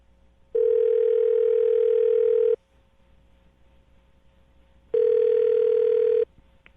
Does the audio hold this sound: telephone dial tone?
yes